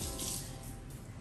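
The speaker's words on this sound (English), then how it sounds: "I have to rinse some of this stuff off." Tap water runs steadily into a kitchen sink while things are rinsed, a close, even hiss with a slight splashing texture and no speech over it.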